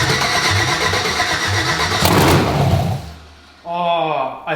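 An LS V8 swapped into a Chevrolet S10 pickup cranks and fires, a loud mechanical churning that surges into a rough burst, cuts out abruptly, then catches again as a person speaks over it.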